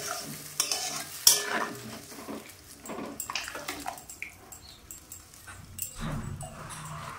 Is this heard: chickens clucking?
no